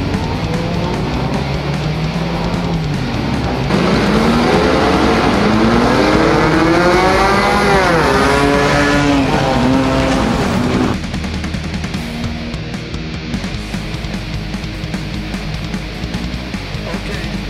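Video game car engines during a flagpole race, a loud continuous drone with rising and falling revving pitch sweeps as the cars accelerate, then settling into a steadier roar.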